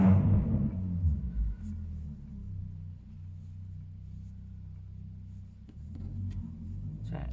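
A boy racer's car circling outside, a low engine rumble droning on at a distance with slight swells, faint and muffled as if heard from indoors.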